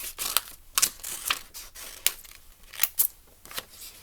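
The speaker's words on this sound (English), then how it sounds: "just going to take my scissors and I'm going to cut that S out" Crisp snipping of scissors cutting a letter S out of folded paper, a series of separate sharp cuts at an irregular pace, close and clear with no talking.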